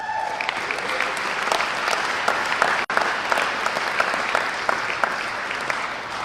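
An audience applauds the Giants baseball team at the Capps Medal awards in Adelaide, with sustained, even clapping from a sizeable crowd and one brief sharp dropout partway through.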